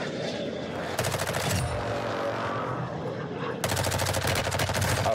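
Shotgun fire in the video game Warzone, a loud sustained burst of rapid shots, then a gap, then another long volley, over a constant game background.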